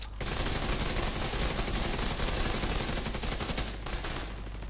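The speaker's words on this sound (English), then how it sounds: "I'm going to shoot that target down" Sustained rapid automatic gunfire from a weapon in the video game Division 2, a loud continuous burst of shots lasting several seconds with no break.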